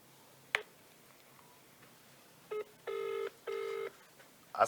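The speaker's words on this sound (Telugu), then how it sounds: "సిద్ధేశ్ అన్నకు ఒకసారి ఫోన్ కలుపు." A telephone rings twice in quick succession, two even electronic ring bursts preceded by a faint tap and a short beep, all fairly quiet with no talk.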